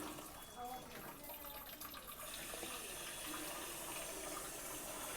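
Water running from a Kangen water ionizer machine, a steady broadband splash and hiss that continues throughout the clip, with voices speaking faintly underneath.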